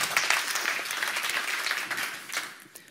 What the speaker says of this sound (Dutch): En ik wil nog graag eenmaal een applaus voor Mariette van Haaster de Winter.